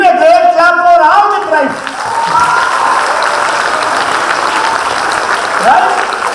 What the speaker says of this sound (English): Give a great clap for all the tribes.